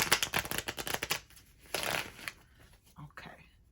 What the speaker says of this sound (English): And so, one more shuffle.